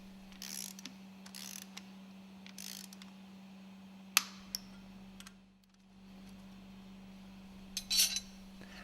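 Ratcheting clicks and metallic tool sounds come from nuts being tightened on a MAN B&W marine engine cylinder cover, in short separate bursts with a sharp clank, over a steady low electrical hum and no talk.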